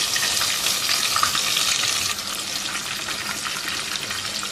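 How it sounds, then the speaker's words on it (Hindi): Tomato paste sautéing in a hot pan for a Mughlai dish, a loud, steady bright sizzle and crackle that holds for several seconds with slight stirring movement and no talk. "1-2 मिनट सौते करेंगे इसको। अब इसमें शामिल कर देंगे 1 प्याली टमाटर का पेस्ट"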